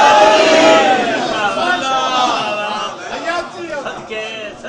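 A majlis congregation shouts the Nara-e-Haidari religious slogan together, a loud massed vocal roar that peaks at the start and then tapers with ragged voices.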